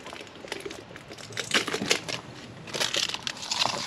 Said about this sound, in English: Obviously remove the plastic.